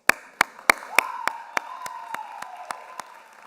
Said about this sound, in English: please, graduates, give them a round of applause